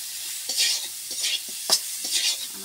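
Fish fries in a hot pan in a home kitchen, with a steady sizzle and a few scrapes and taps of a spatula stirring it, the sounds close and alone without talk.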